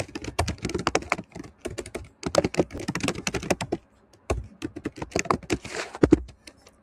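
Rapid typing on a computer keyboard as an assignment name is entered, dense bursts of crisp key clicks with a couple of short pauses, close and clear with no voices.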